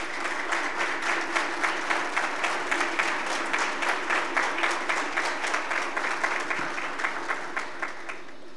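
An audience at a women's public stage event claps in rhythmic unison at about three beats per second. The applause is steady and moderately loud, then eases slightly toward the end.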